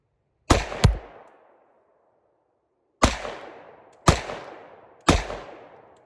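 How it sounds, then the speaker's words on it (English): A Sig P365 pistol firing Underwood +P ammunition mixed with other hollow points: two quick shots, a pause, then three more evenly spaced, each a loud, sharp crack with a brief echoing tail. "I could really tell a difference in shooting this little pistol with that plus P ammo"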